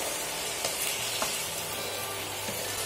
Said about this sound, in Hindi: देखिए, घी में इसे हल्का सा फ्राई करेंगे,